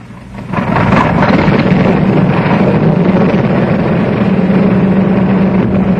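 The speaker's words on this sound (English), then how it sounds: "Engine start." Engines of a Ford-built B-24 bomber start up with a loud, steady roar that swells within the first second and then holds as a dense, continuous rumble.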